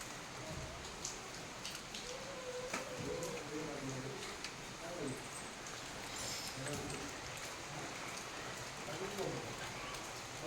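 Heavy morning rain falls outdoors as a faint, steady hiss. Soft voices murmur beneath it.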